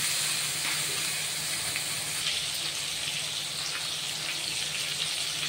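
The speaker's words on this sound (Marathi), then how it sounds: "आता हे आवळे आहेत ना मऊ असे फ्राय करून घ्यायचे." Amla, Indian gooseberries, fry in a pan with a steady dense sizzle and hiss, close and continuous for several seconds with small crackles scattered through it and no voices.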